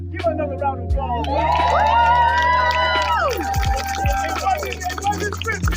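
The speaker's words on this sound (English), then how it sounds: "Give another round of applause." An audience at a Stone Mountain ministry gathering cheers and whoops, a loud, sustained swell of shouting voices that peaks midway and then tapers into scattered calls.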